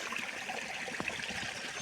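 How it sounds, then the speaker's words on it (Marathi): Water flowing in a forest stream makes a faint, steady, even rush that continues without a break, heard from some distance with no voices. "पाण्याची टोर"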